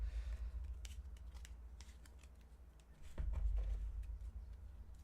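An old, dusty deck of playing cards being shuffled by hand: soft riffling crackles and flicks in a few short bursts, close and quiet against a low background hum, without speech.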